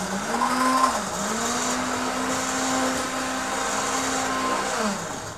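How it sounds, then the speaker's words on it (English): An immersion blender purees hot berries with sugar, its steady motor whine holding through most of the stretch, dipping briefly near the start and again near the end as the blade shifts in the thick mixture. "So you're just going to continue blending it until it's completely smooth."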